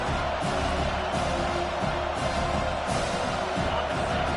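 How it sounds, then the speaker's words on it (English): Stadium crowd at a Penn State football game roars for the defense on third down, a dense, steady wall of cheering and noise with swells of louder yelling throughout. "Decibels rising as the crowd gets behind this defense on third down"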